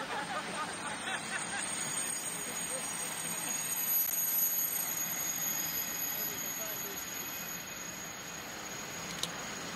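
A steady, broad rumble of a train passing close by a station fills the whole stretch, with faint metallic squeals and a brief click near the end.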